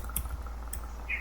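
Soft computer keyboard typing, a few quick key taps scattered over a second, faint and close over a low hum.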